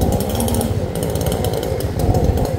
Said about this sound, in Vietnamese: Mọi người cũng tự thuê các cái máy cưa, máy cầm tay để họ chặt cây.